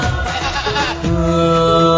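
A goat in a Bakra Eid song gives one loud, close bleat with a wavering, nasal tone that turns into a held musical note.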